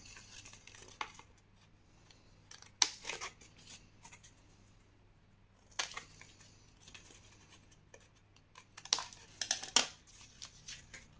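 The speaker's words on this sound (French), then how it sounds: "Vous pouvez ensuite couper légèrement en biais." Scissors cut scrapbooking paper at a slight angle, giving a few quiet, scattered snips and rustles with pauses between them in an otherwise hushed room.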